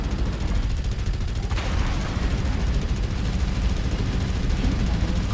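Heavy mech weapons fire in Mechwarrior Online: a dense, continuous barrage of booming, rumbling shots and blasts, loud and close, with no break across the whole stretch.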